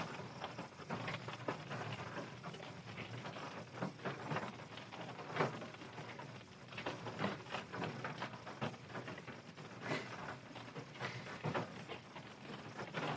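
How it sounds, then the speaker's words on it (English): Soft, steady patter of rain drumming on a car roof in a parking lot, quiet and continuous with scattered heavier drops. "sitting in the parking lot, just listening to the rain"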